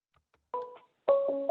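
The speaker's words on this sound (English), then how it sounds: "It's my computer ringing as I'm talking on the phone." Computer sounding a ringtone during a phone conversation, a short two-tone electronic chime followed by a louder sustained stepped tone, heard alone in an otherwise quiet room.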